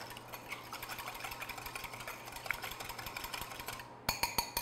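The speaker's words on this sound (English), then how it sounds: "I'm just using a wire whisk. You can just use a fork. Mix that together." A wire whisk beats egg yolk and cream in a bowl, giving a rapid, even run of light metallic clicks that grows sharper and louder toward the end, with no voices.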